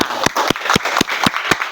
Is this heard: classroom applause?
yes